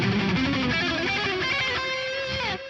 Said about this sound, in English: it sounds way better with a bunch of distortion like this.